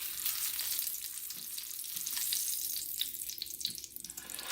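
Sausages sizzling and frying in a hot pan as they are lifted out, a dense continuous crackle and hiss close up with faint scraping underneath, no voices.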